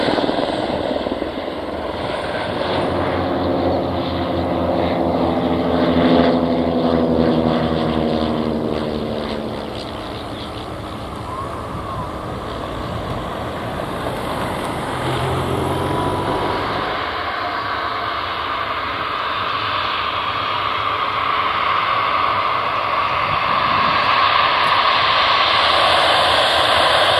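An aircraft engine roars steadily at Liverpool Airport beside runway 27, loud and sustained with shifting rumbling tones, heard alone outdoors with no talk.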